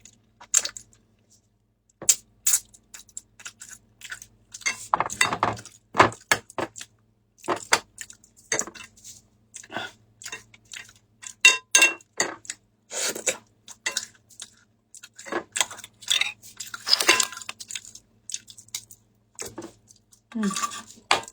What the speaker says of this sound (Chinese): 我每次调这个小料汁儿，都是拿这个香菇辣酱给它调的